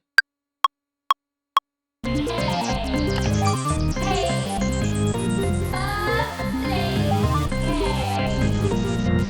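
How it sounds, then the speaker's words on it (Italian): Four sharp, evenly spaced clicks are followed by a dense improvised organ melody recorded in Ableton Live, which plays continuously and at steady volume. "ho voluto aggiungere anche degli strumenti nuovi, in particolare questo organo"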